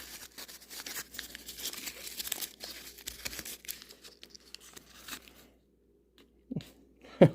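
Advertisement paper crumpling and tearing during the unboxing of vintage 1930s–1950s car parts: a long stretch of dense, fairly quiet crinkling and rustling, then a pause and two sharper, louder tears near the end.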